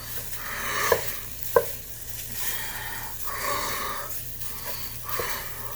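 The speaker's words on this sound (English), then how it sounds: "we're going to want to brown up this meat here. So just cook it down inside here. Kind of separate it up." Italian sausage meat browning in a soup pot, a close sizzle with repeated scraping strokes as it is stirred and broken apart, plus two sharp knocks of the utensil against the pot.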